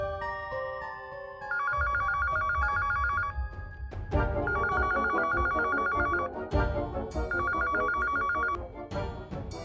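A telephone rings in repeated electronic bursts, three ring cycles over a low background hum and rustle, fairly close.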